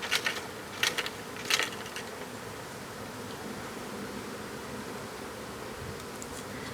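Honey bees swarming around a hive inside a squirrel-made cavity, a steady faint buzzing drone close by, with a few clicks and knocks early on.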